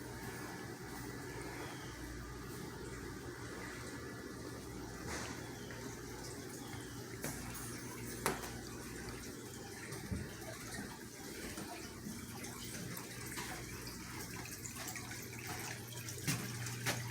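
Clean water runs from a tap in a steady, quiet gush that continues throughout, with a few faint knocks and clicks over a low background rumble.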